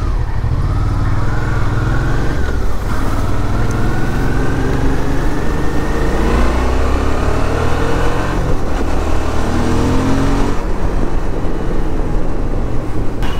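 A Suzuki V-Strom 650 motorcycle on rally-pattern rear tyres accelerates hard on the road, its engine note rising steadily under throttle with constant loud wind rush, no voices.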